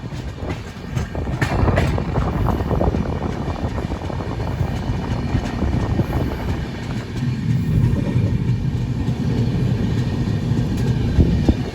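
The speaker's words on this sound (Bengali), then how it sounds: "ওই পেছনে চলে এসছে অমৃত ভারত এক্সপ্রেস বলতে না বলতেই।" The NJP–Tiruchirappalli Amrit Bharat Express rolls past on an Indian railway line, a loud, continuous close rumble with rhythmic wheel clatter and faint squeals throughout.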